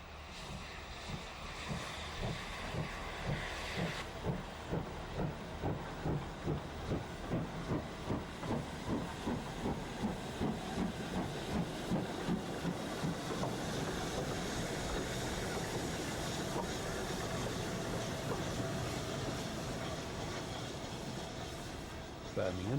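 A steam locomotive runs on restored heritage rails into Birmingham's Snow Hill Station, with a steady loud hiss of steam over a rhythmic chuffing that quickens and then blurs into a continuous roar.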